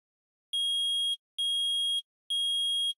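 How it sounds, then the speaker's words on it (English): A metal detector from the courtroom video game Phoenix Wright: Ace Attorney gives three loud, identical electronic beeps, each held about half a second, with short silent gaps and no talk. "That's such loud beeping."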